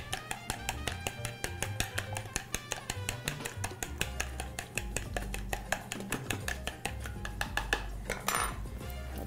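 A utensil beats a mixture in a bowl for papa rellena in a kitchen, giving rapid, rhythmic clinking taps against the bowl, close and steady, with a faster burst near the end.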